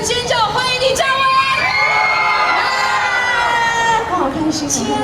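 A concert audience screams and cheers loudly for a singer coming on stage, a dense roar of shrieks and whoops that holds steady for about five seconds.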